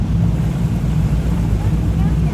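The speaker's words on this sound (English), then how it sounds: "the engine's so loud" A motorboat engine drones loudly and steadily on the Grand Canal in Venice, a constant low rumble with wash and hiss close by, unbroken throughout.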